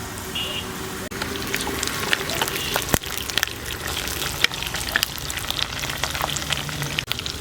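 Curry leaves drop into hot oil with crushed garlic and shallots for a dried-fish curry, giving a steady fine sizzle with sharp crackling pops and some stirring, fairly quiet and continuous throughout.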